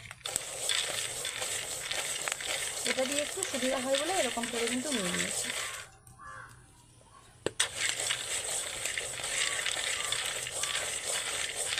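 Chickpeas dry-roasting on a clay stove without oil or sand, stirred with a bundle of coconut husk tied with string, giving a steady dense rattling scrape that pauses briefly midway, with someone talking over it.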